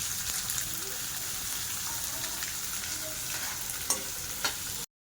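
Onion frying in hot oil in a pan gives a steady, close sizzle with soft crackles that runs through the whole stretch. There is no talk over it, and it cuts off abruptly at the end.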